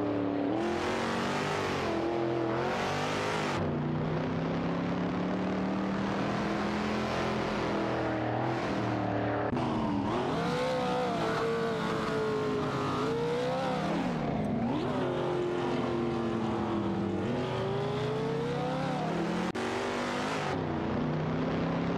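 A Chaparral 12 and a Ford GT40 duel in simulated sports car racing, their engines screaming and revving close by with rising and falling pitch through gear changes, a continuous loud roar with one car briefly passing.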